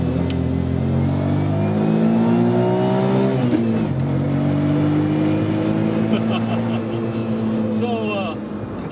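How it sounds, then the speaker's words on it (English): An Autozam AZ-1 small turbocharged kei car revs hard close up, engine pitch climbing and dropping in repeated bursts, with faint whistling spool from the turbo above the engine. "You can actually hear the turbo spooling up a little bit."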